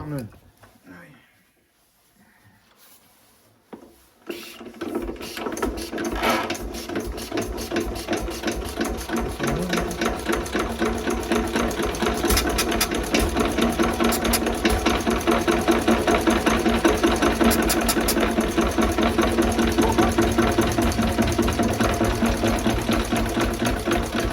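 An old stationary engine, just restarted after sitting, chugs in a steady mechanical run that builds from quiet after a few seconds and holds loud and close, with a rhythmic rattling knock throughout.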